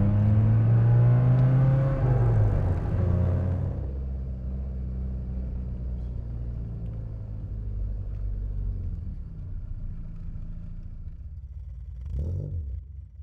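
A 1972 Fiat 128 Rally car's engine revs hard and close for a few seconds, then settles into a steady lower rumble while driving, with a brief rise near the end.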